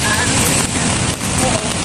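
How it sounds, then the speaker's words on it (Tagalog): Steady hiss of rain falling on surfaces nearby, a dense continuous patter with no pauses. "Kasi umuulan."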